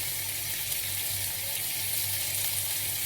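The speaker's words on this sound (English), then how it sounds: "thinly sliced onion and saute it until they are translucent" Thinly sliced onion sautés in a pan for a paneer roll filling, giving a steady, even sizzle and crackle with a low hum underneath and no voices.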